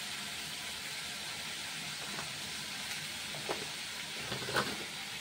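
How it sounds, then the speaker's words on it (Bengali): Chili powder and turmeric fry in a pan for a drumstick chachchari, giving a soft, continuous sizzle with a few faint clicks and pops near the end, close and steady with no talking. "তারপর শুকনো মরিচের গুঁড়া দিয়ে দিলাম, হলদি পাউডার দিয়ে দিলাম।"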